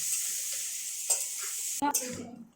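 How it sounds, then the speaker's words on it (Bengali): Steady hissing sizzle of onions frying in hot oil, broken near the end by a couple of scraping stirs of a spatula against the pan. "পেঁয়াজটা একটু লাল করে ভেজে নিতে হবে"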